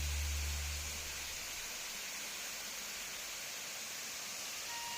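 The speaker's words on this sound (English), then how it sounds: "we visited this peculiar waterfall near a rest area" A waterfall near a rest area in British Columbia on a foggy day makes a steady, soft broadband rush of falling water. A low engine-like rumble fades out in the first second and no one speaks.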